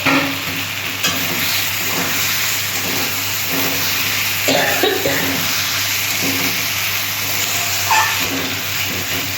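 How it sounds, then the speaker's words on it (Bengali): Fried eggplant pieces are stirred into onions and spices frying in a pan for a fish and eggplant curry, giving a steady loud sizzle broken by repeated scraping stirs throughout. "এবার আমি বেগুনগুলো দিচ্ছি বন্ধুরা,"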